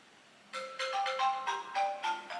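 Phone ringing after a smartwatch find-my-phone command, a bright melodic ringtone of quick repeating notes starting half a second in and sounding clearly on its own.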